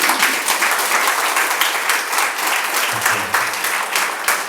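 An audience claps at a music evening held as part of a mental health programme, a dense, even round of applause filling the hall, with a brief low voice murmuring beneath it.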